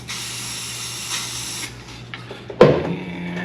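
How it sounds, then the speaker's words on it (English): A steady hiss of aerosol corrosion-protection spray onto a cap runs for over a second, followed by a few soft clicks and a sharp clatter nearby. "I'm just gonna spray some on the cap here"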